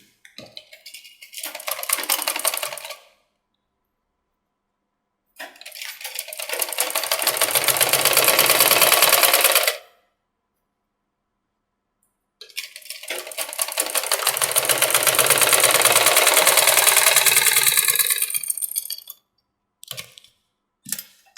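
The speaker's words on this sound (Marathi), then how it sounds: "इथून शिवायचं आता कडेने." An electric sewing machine stitches the side seam of a three-piece princess-cut blouse with a double line of stitching, running in three long, steady whirring bursts separated by pauses, close and loud.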